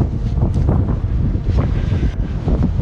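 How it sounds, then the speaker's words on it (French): Wind buffets a microphone outdoors during a metal-detecting outing, a continuous loud rumbling roar with gusty surges throughout and no voices. "Oh, le vent."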